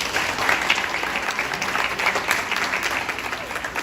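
Steady applause from an audience at a community performance event, dense and continuous for the whole span, with no gaps and a few louder claps standing out.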